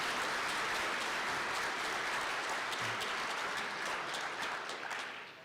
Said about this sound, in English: Let's have a round of applause for all of our bronze level sponsors this evening.